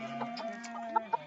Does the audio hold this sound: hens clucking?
yes